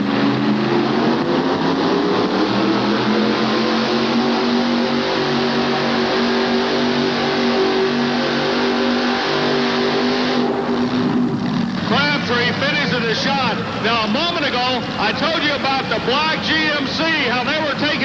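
A pulling truck hauls a sled at a 1988 truck and tractor pull in Charlotte, North Carolina, its engine roaring loud and sustained, then revving into rapidly wavering pitch, with an announcer talking over it.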